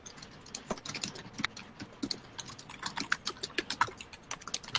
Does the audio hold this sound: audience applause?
no